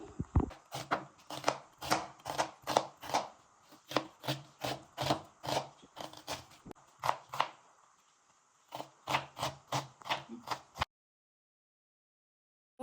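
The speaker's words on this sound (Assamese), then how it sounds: "এতিয়া পিঁয়াজটো কাটিবলৈ লৈছোঁ" A knife chops an onion for egg chop, striking the cutting board close up in a steady run of sharp taps, roughly two or three per second. The taps briefly pause, resume, then stop abruptly, with no talking.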